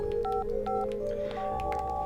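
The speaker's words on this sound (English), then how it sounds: "to stimulate my memory, I use another phone to call it." Telephone keypad tones dialing out on another phone, a few distinct DTMF beeps in quick succession over a steady electronic hum, close and clear with no talking.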